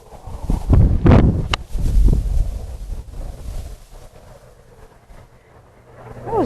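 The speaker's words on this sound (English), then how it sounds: "Gosh, it is so windy." Gusty wind on a golf course buffets the microphone in loud rumbling bursts, strongest early on, then easing into a steadier low roar outdoors.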